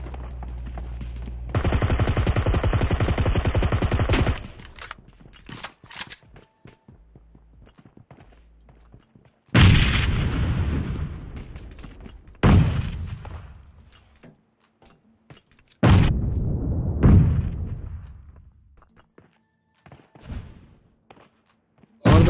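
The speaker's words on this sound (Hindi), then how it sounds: "यहाँ पर तो ऐसा लग रहा है जैसे इस मैप के सारे ग्रेनेड यही दो बंदे लेकर आ गए।" Grenade blasts and bursts of automatic gunfire in the mobile battle game PUBG Mobile, several loud broadband explosions and rattling volleys separated by quieter gaps, near and harsh.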